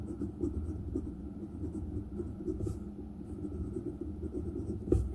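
Extra fine 14K nib of a Montblanc Meisterstück 149 fountain pen scratching across paper, a faint, close scritch of strokes over a low background rumble, ending with a small tap.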